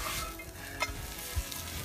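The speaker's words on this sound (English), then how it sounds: "You can hear it start to sizzle already." Wild rock dove rubbed in oil sizzles over an outdoor fire, a soft steady frying hiss with a couple of faint knocks, no talking.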